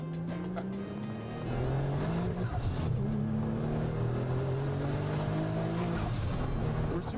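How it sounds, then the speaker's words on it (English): A car driven in a video game, its engine droning and rising in pitch through gear changes, steady and fairly prominent with no talk over it. "This is a ridiculous car to drive"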